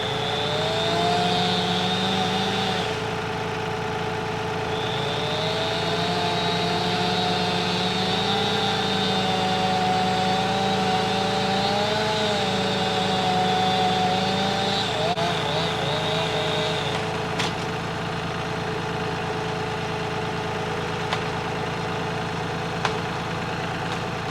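A tractor engine runs steadily while pulling a felled 60-foot maple, a loud continuous drone with a shifting pitch that holds throughout.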